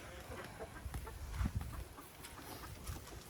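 Rhode Island Red breeder hens on a farm clucking softly in short, irregular bursts, quiet and somewhat distant against low background rumble.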